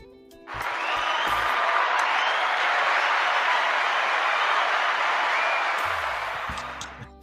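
A burst of applause swells in and holds steady for several seconds, dense clapping from a crowd, then tapers off near the end.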